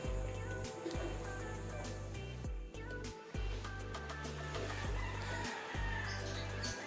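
Chickens cluck and call close by on a farm in Batangas, with a rooster-like crow among them, over a low rumbling background of wind or machinery.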